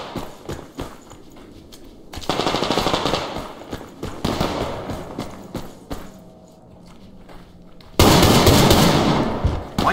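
Gunfire rings out in the Survarium shooter game: rapid bursts of shots come in clusters separated by quieter gaps, loud and close, with a final intense volley and no talking.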